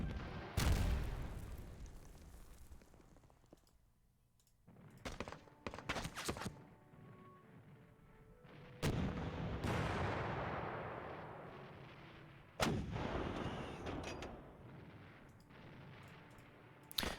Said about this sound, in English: So we'll fire upon these guys here. We'll see what the return fire's like.